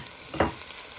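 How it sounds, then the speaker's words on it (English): A brief stir of tomatoes with onion and garlic in a pan, one short scraping swish over a constant sizzle. "You want to give this a good stir so your tomatoes can get nice and softened"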